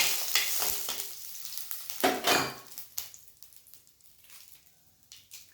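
Hot oil sizzles and crackles close by, flaring loudly as dried red chillies drop in, with spoon stirring and occasional metal clinks as the hiss settles.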